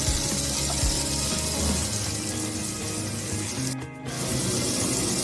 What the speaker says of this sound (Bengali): এগুলোকে এখন ভালো করে নাড়িয়ে ভেজে নেব